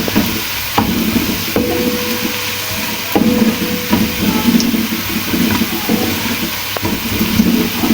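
Onions fry in oil in a pan for a black chickpea pulao while a spoon stirs them, producing a loud continuous sizzle broken by repeated scraping knocks against the pan.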